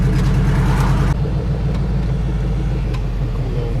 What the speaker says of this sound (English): Me beating on this truck, as much as I love the way it sounds, I probably shouldn't.